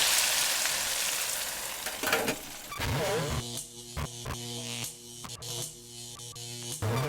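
Food fries in a Hamilton Beach 12-cup electric deep fryer, a bubbling sizzle at first, then a buzzing tonal hum with sharp clicks and crackles, close by.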